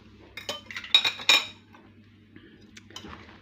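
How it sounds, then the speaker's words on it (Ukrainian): A fork beats eggs in a bowl with a few quick, bright clinks against the dish, followed by quieter scattered taps, close and alone. "Яйця трішечки ось так я зіб'ю вилочкою."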